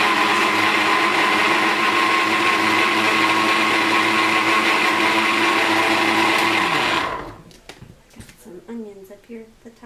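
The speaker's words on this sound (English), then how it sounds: "Now we're just going to get this blended up." A countertop blender whirs steadily and loudly, purees green hot sauce ingredients including onions, then winds down and stops, leaving brief handling noises.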